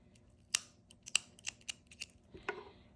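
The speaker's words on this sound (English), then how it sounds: "And then you cut your yarn." Scissors snip through yarn during crochet finishing work: a handful of short, sharp close-up cuts at uneven intervals, quiet and with no one speaking.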